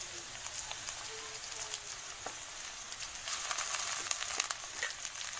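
Potato, cabbage, grated carrot and chopped chili frying in a pan, with a steady hiss of sizzling that grows louder toward the end and scattered small pops.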